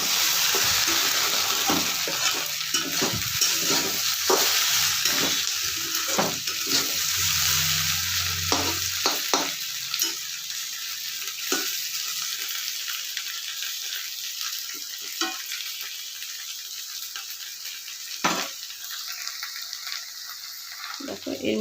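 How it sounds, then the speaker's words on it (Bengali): Okra fries in a pan with homemade spices while being stirred, a loud continuous sizzle broken by repeated scraping clatters of the spatula, heard close with no talk. "নাড়িয়ে দিচ্ছি।"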